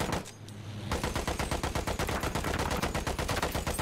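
Fighter plane machine guns in Battlefield 1 fire in a long, loud, rapid stream of evenly spaced shots, starting abruptly after a short lull beneath engine drone and continuing without pause.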